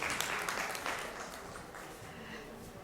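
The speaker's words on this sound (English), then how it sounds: "let's go ahead and put our hands together" Applause from an audience at a conference fireside chat session, a soft, distant wash of many hands clapping that fades gradually, with no talk over it.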